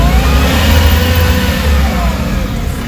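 Car engine revving in a workshop during a wiring check, a steady loud mid-to-low engine drone that rises and holds under load, close by with no talking.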